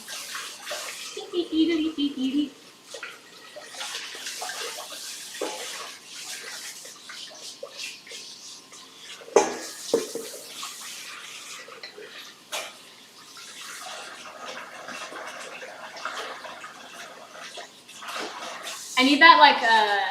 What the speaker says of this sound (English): I have to clean this bowl because I need it for the frosting.